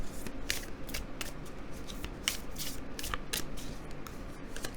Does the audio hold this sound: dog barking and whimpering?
no